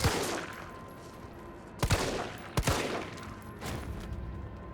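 Gunfire aimed at zombies in Resident Evil 3: a few sharp separate shots, one early and then close pairs, standing out over a low ambient game backdrop with no talking.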